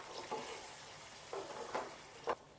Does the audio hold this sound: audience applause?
no